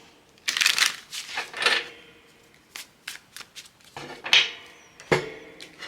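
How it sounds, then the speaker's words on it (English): A deck of oracle cards is shuffled by hand in several quick riffling bursts separated by short pauses, crisp and close-up, with light tapping and handling sounds in between. "I'm just going to do a couple shuffles."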